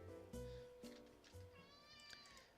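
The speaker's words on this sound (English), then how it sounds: "And there's a squeaky cat again." A squeaky, high-pitched cat meows a few times in a game, each call clear and close, with quieter background game sounds between them.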